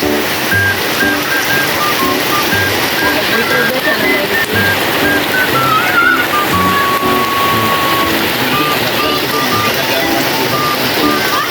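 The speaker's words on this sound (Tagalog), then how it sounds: "malakas ang ulan guys kala ko hindi na magulan nagulan pala diba?" Steady, dense rain hisses continuously across the whole clip, heavy and close, with faint background sounds mixed in.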